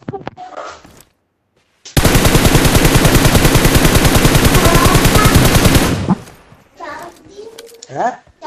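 Sustained automatic gunfire in the mobile battle royale game PUBG Mobile, a loud rapid burst lasting about four seconds, with a voice talking before and after it.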